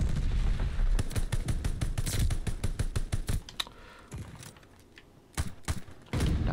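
A bombing run in the shooter game Call of Duty: Vanguard lands as a rapid string of sharp, loud blasts, then thins to a few scattered bursts with a brief lull.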